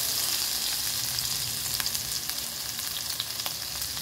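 Curry leaves and ginger-garlic paste fry in hot oil for stuffed brinjal: a close, continuous hissing sizzle with small crackling pops, steady in loudness from start to finish.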